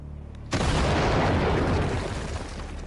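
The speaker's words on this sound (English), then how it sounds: "The cannon blasts with unbelievable power." An ancient-style cannon fires a stone ball in a quarry: one sudden deep blast that bursts out loud and rolls away into a long echoing rumble.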